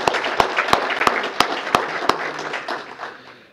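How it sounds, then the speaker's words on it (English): Audience applause at a mayor's employee recognition awards ceremony: steady, dense clapping with a few sharper claps standing out, loud and sustained before tapering off at the end. "So let's have a round of applause for those ladies."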